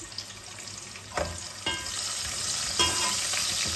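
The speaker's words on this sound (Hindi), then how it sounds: "अब मैं इसमें प्याज डाल रही हूँ।" Onion sizzles steadily in a hot pan with garlic, with a few sharp bursts as it is added and stirred, the frying growing slightly louder.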